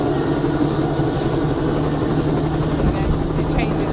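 Bell JetRanger 206 helicopter taking off from Blunsdon House, its turbine and rotor roaring loud and close in a steady, dense throb with a low rhythmic beat underneath, continuous throughout.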